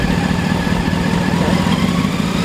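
A motorcycle engine runs loud and close with a steady, throbbing low rumble, held at raised revs throughout without a break.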